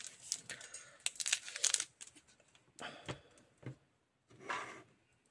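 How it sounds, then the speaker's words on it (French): Scissors snip open a powder packet for a bead craft kit, a few close crinkly cuts and tearing rustles in bursts separated by quiet gaps. "Une paire de ciseaux."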